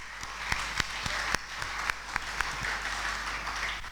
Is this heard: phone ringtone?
no